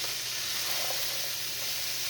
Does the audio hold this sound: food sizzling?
yes